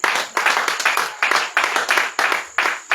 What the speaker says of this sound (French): Acclame le Seigneur Jésus-Christ